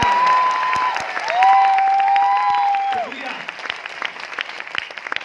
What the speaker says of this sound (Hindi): अरे इसी बात पे ताली बजा लो